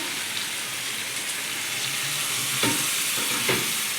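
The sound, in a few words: chicken sizzling in pan as water is added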